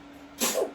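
A single short, breathy sneeze, sharp and hissy, heard once against a quiet background.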